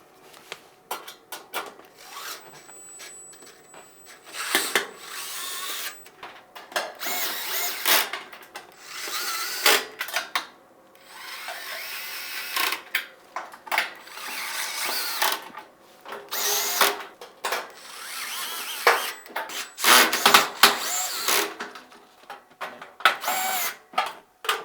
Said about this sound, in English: Then, reinstalling the screws.